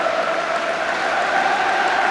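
Steady crowd applause at a football match, a continuous even wash of clapping at moderate level with no clear breaks.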